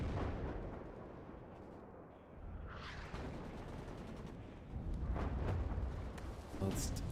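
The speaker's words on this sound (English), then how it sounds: "Mortars and MR10s trying to engage as well." Mortar and MR10 rocket artillery fire in the WARNO real-time strategy game, a dense continuous rumble of distant booms and gunfire with a few sharper impacts near the end.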